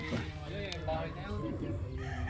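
Pure green-legged sweater gamefowl rooster, an F1 bird on a gamefarm, crowing and clucking with wavering calls under steady background noise, other birds and voices faintly around.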